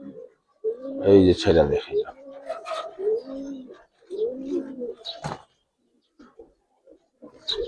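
Close pigeon coos from Giribaz coloring pigeons, a female among them, come in short rounded bursts alongside someone talking nearby, then the sound tapers into near quiet.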